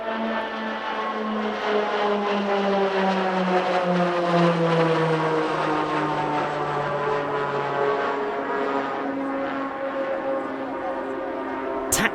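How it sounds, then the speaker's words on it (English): A Piaggio VC-180 Avanti VIP transport aircraft of the Italian Air Force flies past at an airshow, its steady, loud propeller drone sliding gradually lower in pitch as it passes and moves away. "starting with a very distinctive VC-180 Avanti, used in service since 1994 for VIP transport"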